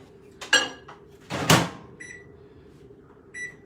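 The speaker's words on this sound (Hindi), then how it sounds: "मैं इसको माइक्रोवेव में डाल देता हूँ" A bowl of homemade granola goes into a microwave oven in a home kitchen: a couple of door and cupboard clunks, then two short electronic beeps from the oven panel, close and clear against a quiet room.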